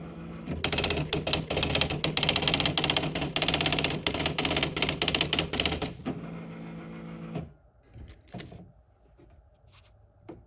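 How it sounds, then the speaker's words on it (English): A typewriter clatters in a fast, dense run of mechanical strikes and ratcheting for several seconds, then stops; a few faint isolated clicks and a soft tone follow, close by, with no talk. "I have to hit it on the typewriter"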